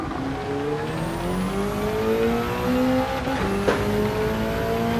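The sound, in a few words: BMW race car entering pit stop in Gran Turismo 7 video game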